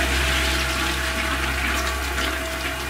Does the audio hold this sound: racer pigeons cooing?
no